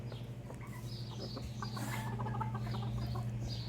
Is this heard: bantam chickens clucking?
yes